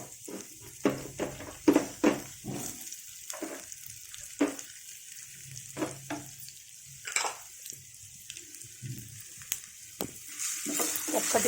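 Potatoes going into a pan of spiced masala for a capsicum, potato and onion curry, with intermittent stirring scrapes and clatter over a steady low sizzle, fairly close and without talk.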